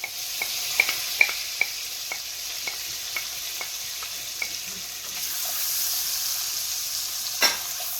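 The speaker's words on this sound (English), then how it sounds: "Okay, I'll put my mushrooms back in." Mushrooms tipped back into a hot pan for a creamy mushroom sauce, giving a soft, steady sizzle with light scattered clicks and taps of stirring, close and moderately quiet.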